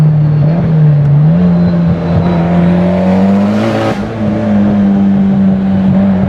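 A 500whp Mitsubishi Evo X GSR with an opened-up ETS downpipe accelerates hard, its loud, close engine tone rising steadily through the revs with a brief dip and rasp partway before climbing again.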